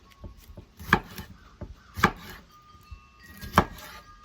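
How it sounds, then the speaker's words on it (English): Vegetables for salsa are chopped with a knife on a board, a few sharp distinct knocks spaced irregularly over a quiet background. "So when I start chopping, I'm not slowing down for nothing."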